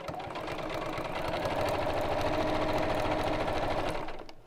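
A sewing machine runs steadily through a corner of fabric during a live sewing demonstration, its rapid even stitching loud and continuous for several seconds before stopping abruptly.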